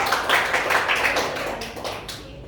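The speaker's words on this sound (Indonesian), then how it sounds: "kasih tepuk tangan dulu dong." A small classroom group claps during a micro-teaching lesson, giving a brief, modest burst of hand claps that fades toward the end.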